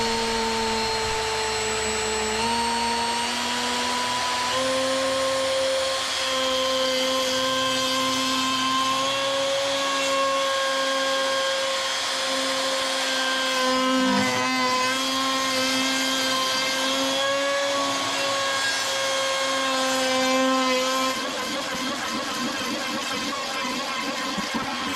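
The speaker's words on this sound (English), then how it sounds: "router bit" A router with a flat bottom bit cuts oak end grain, giving a loud steady high whine with shifting pitch that runs without a break and then slows at the end, with no talking.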